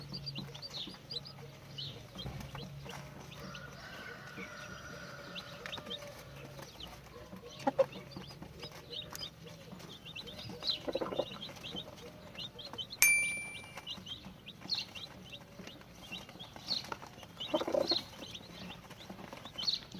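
A yellow hen clucks softly among her chicks in a quiet yard, with scattered faint peeps and occasional louder calls over a low background hum.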